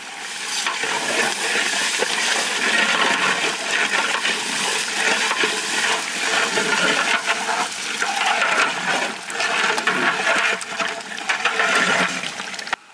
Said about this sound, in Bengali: হ্যাঁ, পানি গরম হয়ে গেছে, ভাতের চালটা দিয়ে দেবো।